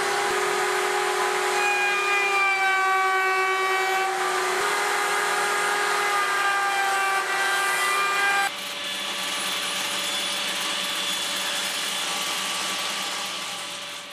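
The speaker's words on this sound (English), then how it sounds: "take it to the router table to round over the edges, and then finally the table saw to cut it in half" A router table and a table saw work a wooden shield piece. A loud, continuous motor whine runs steadily, then shifts to a different, slightly quieter hum about two-thirds of the way through. No voices are present.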